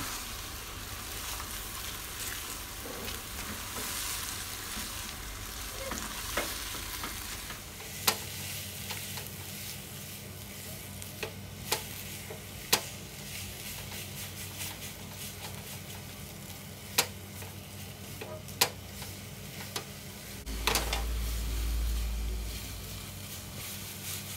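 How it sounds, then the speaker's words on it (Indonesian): Sausage fried noodles sizzling in hot oil in a pan while being stirred, a steady close crackle with sharp scraping clicks from the utensil scattered throughout and a low rumble in the background. "Masukkan minyak yang sudah ditiriskan dan dimasak sampai matang."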